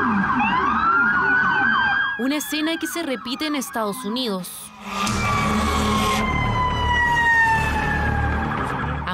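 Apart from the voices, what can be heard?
ambulance sirens heading to a school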